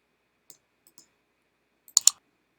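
A computer mouse clicks sparsely while text is being edited, a few faint isolated clicks followed by a quick louder double click, otherwise silent.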